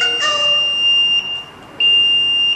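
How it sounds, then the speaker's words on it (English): An MA300 fingerprint access control unit sounds its alarm buzzer, a steady, loud, high electronic tone that breaks off briefly and then resumes, with no other sound around it. "System output alarm."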